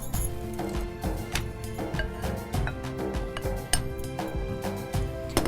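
Muffin batter being stirred in a small bowl, with a spoon clinking and scraping against the dish in an uneven rhythm of light taps and strokes, close and clear with a faint hum behind.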